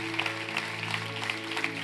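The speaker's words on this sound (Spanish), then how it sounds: "Un aplauso, gloria a Dios." Church congregation applauding during a Spanish-language service, a dense continuous wash of clapping over a sustained musical tone, moderately loud throughout.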